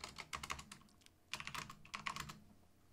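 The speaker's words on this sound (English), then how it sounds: "I can just type my own stuff in here." Fingers tap quickly on a computer keyboard, a close, quiet clatter of keystrokes in uneven bursts with brief pauses and no talking.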